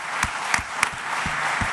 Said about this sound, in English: Round of applause for that, please.